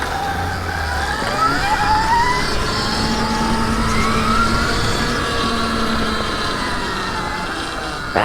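A street-legal Stark Varg electric motorcycle with forged wheels rides past, its whining electric motor rising and falling steadily with loud road and wind noise throughout.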